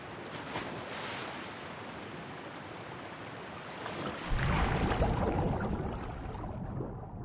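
Cold water sloshes and surges in The Last of Us game, a steady broadband wash of waves that swells louder midway and rolls on with a rough, churning texture.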